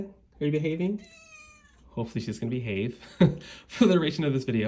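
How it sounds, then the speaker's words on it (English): A cat meows once with a drawn-out, tonal call, while someone talks before and after it indoors. "that's my cat"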